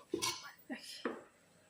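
A metal pot lid is handled over a simmering radish curry, giving three short clanks and clinks spaced across a second, close and moderately loud, then quiet.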